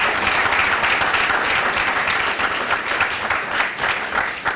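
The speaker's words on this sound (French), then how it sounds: "Acclamation pour les deux équipes, s'il vous plaît." Studio audience applauding both teams on a quiz show, a loud, dense and steady clatter of many hands that fills the whole stretch and tapers slightly near the end.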